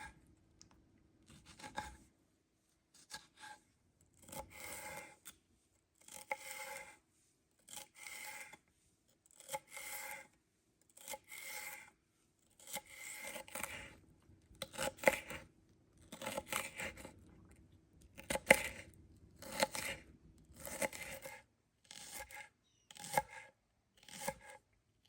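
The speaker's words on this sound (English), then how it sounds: "I will go through and take out the stem and the hull of each berry before I chop it up" A knife chops fresh strawberries for a salsa, with short bursts of crisp rhythmic cutting and rubbing against a board, repeated in separate clusters with quiet gaps between and no talk.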